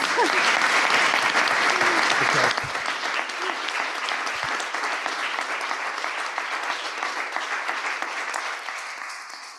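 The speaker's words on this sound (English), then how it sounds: "let's give Andrew a round of applause" Audience applause for a speaker at a program on media, democracy and the rule of law: loud, sustained clapping from a full room, slightly easing after a couple of seconds and continuing steadily to the end.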